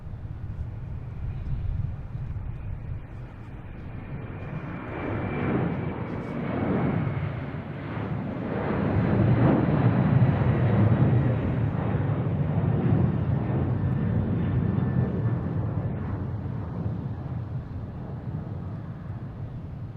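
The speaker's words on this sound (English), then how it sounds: "There we get UPS taking off," A UPS cargo plane takes off from Boston Logan International Airport, its engines producing a steady, broad roar that swells and holds for the full stretch, with some wind buffeting the microphone.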